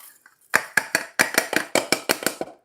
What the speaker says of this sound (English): That noise you hear is me just emptying the quinoa into the rice cooker after washing it.